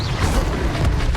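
A fire spell is cast in a wizard video game, a brief loud rumbling boom with a burst of crackling, dense low noise that fills the whole short moment.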